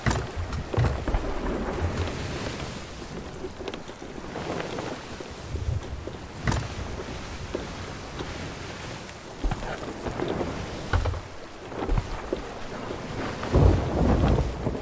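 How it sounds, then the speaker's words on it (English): Stormy conditions at sea aboard a sailing ship, with heavy wind buffeting, rain noise and low rumbling thunder swells rising and falling throughout, with no speech. "We may need to head into the storm."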